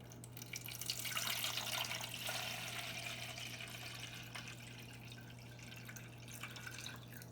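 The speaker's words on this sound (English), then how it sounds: "I'm going to see if I can fit 1 liter of liquid into my bowl" Water poured into a bowl to measure out one liter, a soft continuous pouring stream that swells early and then settles into a steady trickle, heard faintly and alone.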